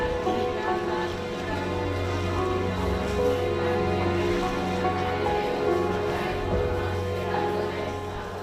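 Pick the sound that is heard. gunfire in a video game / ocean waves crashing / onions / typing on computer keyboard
ocean waves crashing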